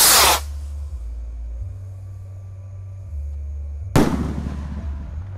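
Two loud, sharp blasts from a 1.9-inch Mars Roman candle fired on the eve of Eid, about 3.5 seconds apart, each followed by a crackling tail. A low droning hum runs between the shots, and no one speaks.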